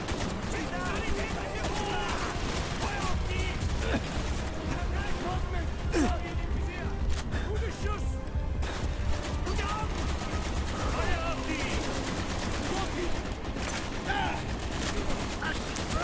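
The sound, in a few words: gunfire from a gun in the video game Call of Duty: Black Ops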